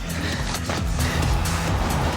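A car drives in a movie chase scene, a steady, close engine rumble with road noise throughout.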